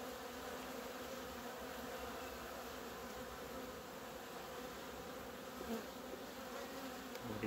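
Honeybees buzz steadily over a hive frame during a spring colony inspection, a dense, continuous hum that stays at an even level throughout, with no voices.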